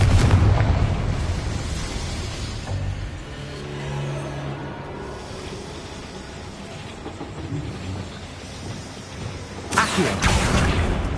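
Confringo fire-blast spell explosions in Hogwarts Legacy, a deep booming burst at the start, a rumbling tail fading through the middle, then another sharp loud blast near the end, heard alone without speech.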